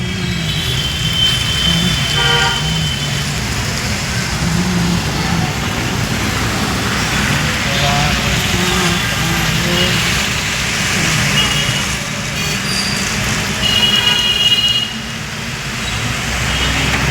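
Road traffic in Patan city on a rainy day, a steady broadband wash of car and truck engines and wet road hiss with a few horn toots and passing vehicles, continuous and fairly loud throughout.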